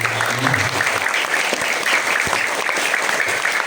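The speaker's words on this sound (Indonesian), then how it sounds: "tepuk tangan buat guru-guru kita" A school audience at an elementary school Isra Mi'raj commemoration applauds its teachers, with dense, steady clapping filling the room for several seconds and a few faint voices underneath.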